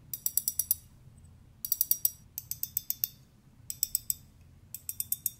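A Daiwa 22 Exist spinning reel, turned by hand in bursts, gives a fine rapid ticking ratchet in five short runs with brief pauses between, close and quiet.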